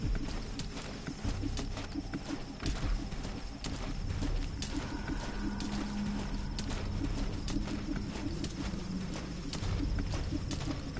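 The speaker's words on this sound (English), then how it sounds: "the extra sounds is putting me off because I think it's footsteps, but it's the bloody birds flapping the wings" Birds flap their wings in Metal Gear Solid V, making soft, repeated fluttering beats like scurrying footsteps. Pigeon-like cooing and a steady hum of game ambience run underneath.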